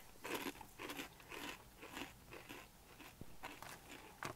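Takis Buckin' Ranch rolled tortilla chips being bitten and crunched close to the mic, a series of sharp crisp crunches roughly every half second with chewing between them and no talking.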